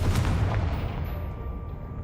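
A Confringo spell blast in a Harry Potter video game, a loud booming explosion with a heavy low rumble that decays and fades over about two seconds.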